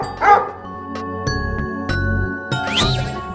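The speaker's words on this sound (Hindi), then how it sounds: "डॉन, मुझसे बात करो, तुम खाली भौंके हो।" A dog gives a few short, sharp barks and yips with gaps between them, close and fairly loud, along with faint jingling.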